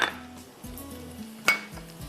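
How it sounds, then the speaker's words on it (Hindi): Carrots, onions and capsicum going into a pan for Chinese beef, with metal clinks of a spoon against the pan and light stirring clatter, two sharper knocks standing out, close and fairly quiet. "फिर आप इसमें डालेंगे सारी सब्जियां"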